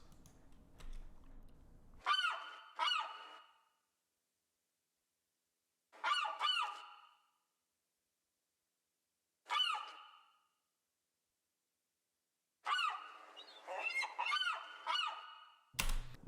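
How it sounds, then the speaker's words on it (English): Seagulls give sharp, squawking cries as a sound effect in a music track, heard in separate bursts of two or three calls with silent gaps between them, ending in a quicker flurry of calls. "Effects being seagulls, the sound of water, the seagulls and the water."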